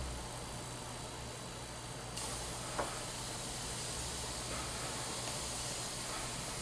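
Airbrush spraying brown Tamiya paint over Silly Putty, a soft continuous hiss held at a low, even level, with the tone shifting once partway through and a faint tap.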